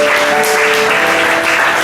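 Applause for the women in a church congregation, a steady wash of clapping from a crowd with a sustained tone underneath, continuous and fairly loud throughout.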